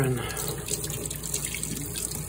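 Water runs steadily from a sink tap in a basement near a steam boiler, a continuous close splashing hiss with a brief word spoken at the start.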